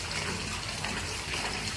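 Water splashes and gushes steadily while raw beef is being washed in a bowl, a continuous close, wet rush with no speech.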